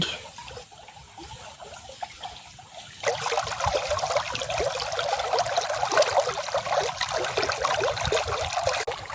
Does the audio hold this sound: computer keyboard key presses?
no